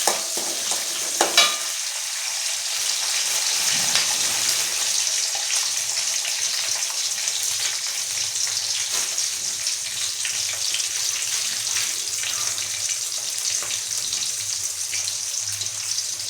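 Mustard seeds, onion and green chili fry in hot oil for a sambar tempering, a steady close sizzle with occasional stirring scrapes throughout, no voices.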